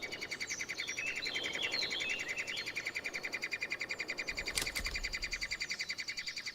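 Three-toed woodpecker chicks beg for food in a dead tree in a mountain forest, a fast, steady run of shrill, high chirps repeating without pause, fairly faint, with a brief knock partway through.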